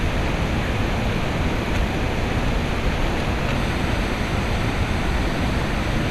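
A river waterfall roars as a loud, dense, unbroken rush of broadband water noise, steady throughout with no voices.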